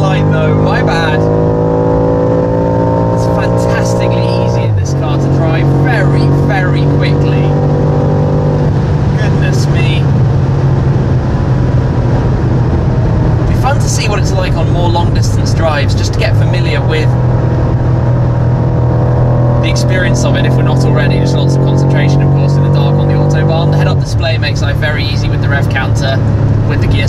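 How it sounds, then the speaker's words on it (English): A BMW M5 cruising on the autobahn at about 250 km/h gives a loud, steady engine drone whose pitch rises and then drops at several gear changes, with wind and road roar throughout. "as we cruise down at 250 odd kilometers an hour down the autobahn"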